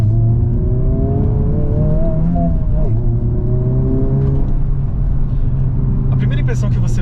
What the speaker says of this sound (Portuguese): Mas agora eu vou dar uma acelerada para a gente sentir um pouquinho mais. Tenta ouvir aí, vai, o motor e o que acontece na pista.